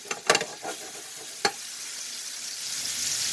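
Shrimp scampi seasoned with Old Bay sizzles in a frying pan, a steady close hiss with a few brief clinks of stirring at the start.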